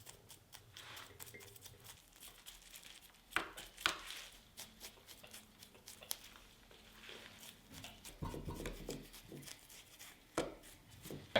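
Small stick scraping and poking through the soil and root mass of a yaupon holly bonsai, a quiet run of scratchy rustles and soft crumbly taps, with a few louder pokes scattered through and no talking.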